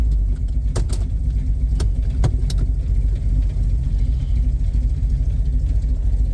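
Chevrolet Malibu with a 383 stroker engine idling slightly low, a loud, steady, close low rumble with a few sharp clicks scattered over it.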